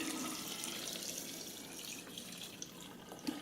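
Herbal tincture is poured into a jar, a continuous liquid trickle and splash with a faint gurgle, close and fairly quiet, ending with a couple of small drips.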